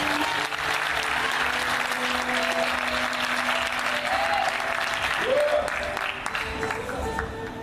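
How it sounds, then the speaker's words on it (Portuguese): Church congregation applauding loudly during a sermon, a dense, steady roar of clapping with crowd noise that holds nearly level throughout, with faint tones and voices underneath. "Se você acredita nisso, é verdade, aplaude ao Senhor bem forte."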